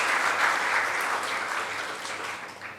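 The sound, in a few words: audience applause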